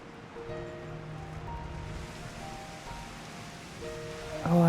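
Steady rain hisses in the game FFXIV: Endwalker, a continuous wash of drops on surfaces with soft sustained music tones underneath, swelling slightly louder at the very end.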